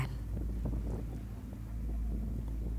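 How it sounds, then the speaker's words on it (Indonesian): Wind blowing over waves at a shore, a steady low rumble with faint soft washes of water, constant and moderately quiet throughout. "desir ombak,"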